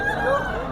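A brief snatch of an Aseel rooster crowing at the Lalukhet Sunday market: one short, strained, tonal call, close and fairly loud.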